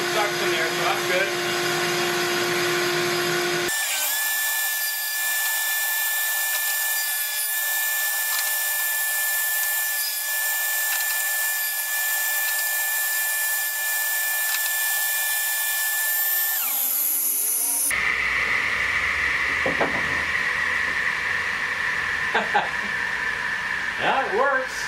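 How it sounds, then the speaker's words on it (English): A small vacuum used for dust collection on an older Craftsman table saw whirs loudly with a steady high whine, cutting in and out in sections. "Suction, a small vacuum"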